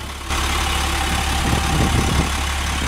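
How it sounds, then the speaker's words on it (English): A 2003 International 7400 truck with a VT466 diesel engine idling, a steady low rumbling drone close by that sets in after a short quieter moment at the start. "The vehicle is currently running."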